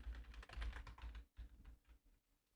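A password is keyed in on a computer keyboard, quiet irregular key clicks in a couple of quick bursts with short pauses between, close and alone with no talking.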